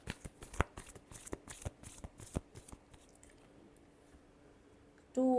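Tarot cards shuffled by hand at close range, a rapid run of soft riffling slaps and clicks for about two and a half seconds, then a quieter lull before a brief louder sound at the end.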